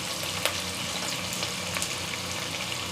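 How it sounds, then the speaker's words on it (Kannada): Onion, curry leaves and green chillies sizzling in hot oil for cabbage palya, a dense, even, close crackling hiss that fills the short stretch with a few sharper pops. "ಇವಾಗ ಈರುಳ್ಳಿ ಕರಿವೆ ಸೊಪ್ಪು ಹಸಿಮೆಣಸಿನ್ಕಾಯಿ ಹಾಕ್ತಾಯಿದ್ದೀನಿ"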